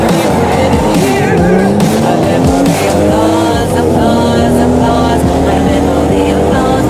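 A car speeds hard through GTA V, its engine roaring loud and continuous with rising and falling gear pitch, plus tire noise and brief squeals.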